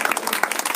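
A congregation claps together at a Christian prayer and deliverance service, a dense run of overlapping hand claps filling the short stretch at steady loudness.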